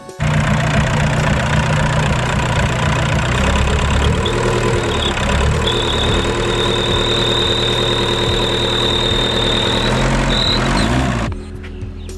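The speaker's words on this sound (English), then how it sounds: "I suspect it's the tandem pump making the noise" A car engine runs with its auxiliary belt removed while a suspected noisy tandem pump clatters, a loud close idle with a rough rhythmic knock and a faint whine, cutting off sharply near the end.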